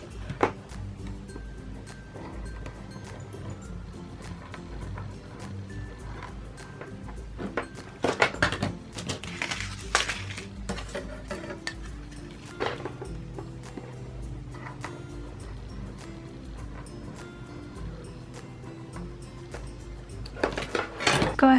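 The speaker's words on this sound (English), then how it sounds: "So it's time for the little sequin mix." Small plastic sequins poured and shuffled by hand for a shaker card, a continuous light rattling clatter close by that swells into busier bursts partway through and again at the end.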